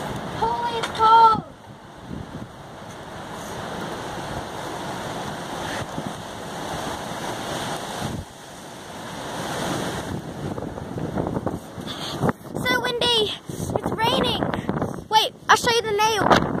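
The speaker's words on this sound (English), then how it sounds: "It's so windy." Strong, cold wind buffets the microphone on an outdoor deck in loud, continuous roaring gusts, with brief bursts of talking near the start and toward the end.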